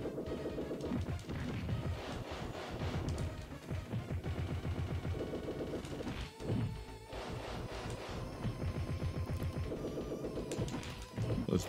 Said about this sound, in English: Grenades sound like little firecrackers.